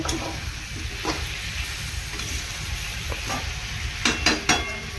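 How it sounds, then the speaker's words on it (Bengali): Vegetables fry in a pan while being stirred, a steady sizzle broken by scraping strokes of the spatula, with a quick burst of louder scrapes near the end and no talking. "এখন দেখো এখানে সবজিগুলোকে ভাজছি"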